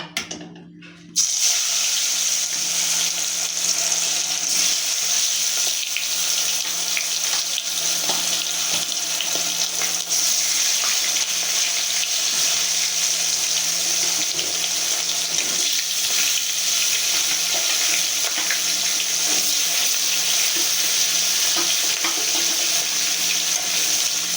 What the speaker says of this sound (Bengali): এবার আমি মাছগুলো একে একে দিয়ে ভেজে নেব।